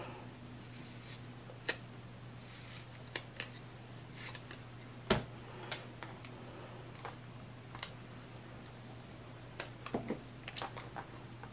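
Scissors snip paper while a vision board is being made, giving scattered close, sharp clicks and cuts in quiet surroundings with a faint steady background hum.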